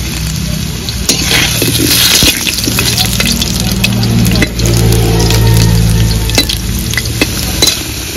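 Soybean chunks fry in hot oil while being stirred, giving a steady loud sizzle with scraping stirs and clinks throughout, no voices.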